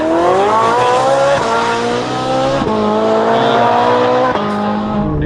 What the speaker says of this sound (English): I want my audience to properly hear the sound of the vehicle.